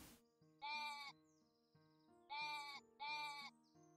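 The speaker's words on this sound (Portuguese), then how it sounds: "3 ovelhinhas." Three sheep bleats from the video game Equilinox in a snowy biome, each a loud wavering cry under a steady synthesized musical tone, with gaps between them.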